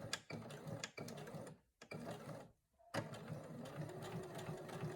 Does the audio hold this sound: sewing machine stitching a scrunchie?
yes